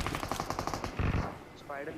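Rapid bursts from a Bizon submachine gun in a video game, a fast run of sharp shots for about a second followed by a heavier burst, then quieter game sounds, with faint voices underneath.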